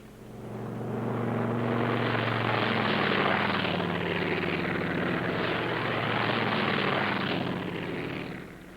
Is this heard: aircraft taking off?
yes